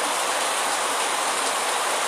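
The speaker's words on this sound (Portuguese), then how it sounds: "choveu a noite todinha e a chuva vai e volta e continua chovendo" Steady overnight rain hisses evenly over the town of Macaúbas, Bahia, Brazil, a dense continuous patter with no other sounds standing out.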